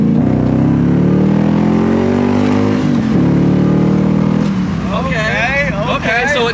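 An LS1-swapped Nissan 300ZX pulls hard through a long gear, its V8 note rising in a steady, chugging climb, loud and close, with a brief dip mid-pull before revving on under a voice speaking.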